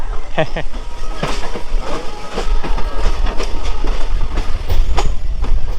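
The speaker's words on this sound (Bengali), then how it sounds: "আমাদের ট্রেনটা বের হয়ে যাচ্ছে প্ল্যাটফর্ম থেকে স্টেশন থেকে" A train leaving Sealdah station platform rumbles steadily with rhythmic clicking of wheels over rail joints, a loud continuous rolling noise close by.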